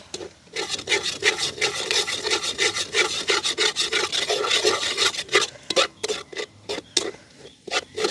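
A spatula repeatedly scrapes and stirs pittu kothu frying in a pan, making quick rhythmic rasping strokes in bursts, close and fairly crisp, with short pauses between runs.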